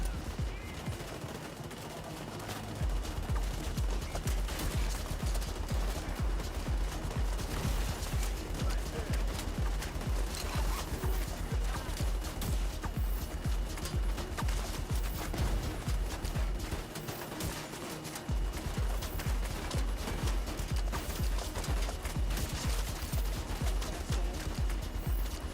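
Rapid, sustained automatic gunfire from a shooter video game, The Division 2, rattling almost continuously at close range with brief pauses, loud and dense throughout.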